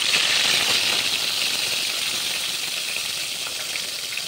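Dried fish (shutki) hitting hot oil gives a bright, hissing fry that starts loud and settles into a steady crackle, close and uninterrupted.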